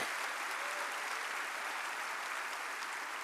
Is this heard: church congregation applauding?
yes